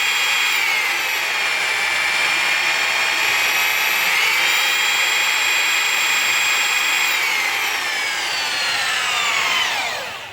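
A small electric drill whines steadily at high pitch, holding speed for several seconds before winding down at the end.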